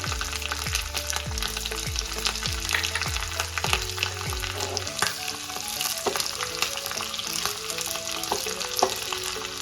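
Loud, steady sizzling of mustard seeds, curry leaves and chopped chilies in hot oil, with a series of rhythmic low thumps early on, then crackling continues alone.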